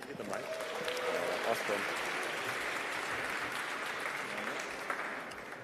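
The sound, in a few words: audience applause for Collective Action demo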